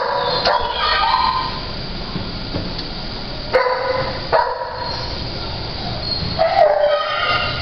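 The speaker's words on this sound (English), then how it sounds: "Just a beautiful, beautiful dog." A dog gives several loud, close barks and sharp yips spaced a few seconds apart, with whimpering whines in between over a steady background rumble.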